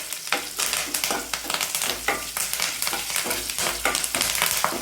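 Curry leaves frying in hot oil for healthy jowar rava upma, a steady crackling sizzle with sharp pops and occasional stirring scrapes, close and continuous without talk.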